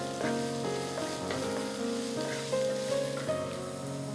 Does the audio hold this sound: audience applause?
no